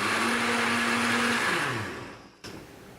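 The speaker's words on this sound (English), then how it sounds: "So my batter has been blending for a few minutes now." A blender whirs loudly and steadily while blending Kalathappam batter, its motor pitch sagging and winding down until it stops, followed by a brief click.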